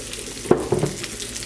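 Avocado oil sizzling and frying in a hot pan that was drying out, a steady soft crackle with a few brief louder pops near the start, heard up close with no talking.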